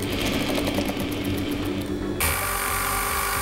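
A sewing machine stitches a narrow folded fabric strap, its motor whirring in a rapid, steady needle rhythm, close and continuous, with a slight change in tone partway through.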